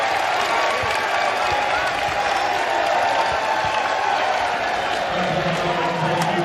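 A large crowd at a college men's basketball tournament semifinal roars with a dense wash of jeering and noise, loud and continuous throughout, like spectators reacting in an arena.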